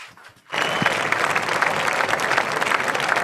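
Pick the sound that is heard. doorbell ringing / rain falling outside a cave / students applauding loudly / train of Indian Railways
students applauding loudly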